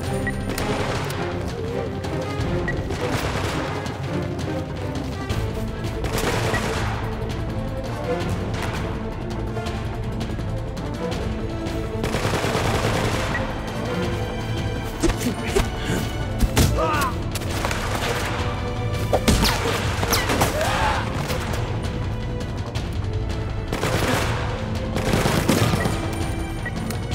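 Sustained volleys of gunfire in Resident Evil Operation Raccoon City, dense and loud throughout, with bursts, crashes and booms layered over a steady game soundscape.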